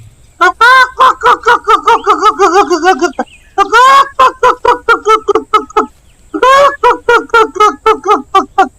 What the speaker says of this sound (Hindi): राहुल अपने पापा को देखकर जोर जोर से चिल्लाने और फड़फड़ाने लगता है।